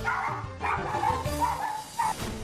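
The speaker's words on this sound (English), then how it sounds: "Jose will go crazy, just barking, barking, barking, barking" A dog barks and yips in quick, excited bursts, close by, with some whimpering between the barks, set off by a doorbell ringing at home.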